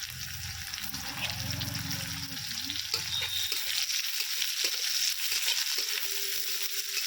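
Chopped onion dropped in with lightly browned garlic frying in oil, giving a continuous close sizzle over a low rumble that thins out partway through, with no one speaking.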